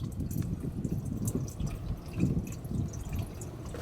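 Transmission fluid drains from a car into a pan, a soft continuous trickle and patter of liquid at close range, with no one talking.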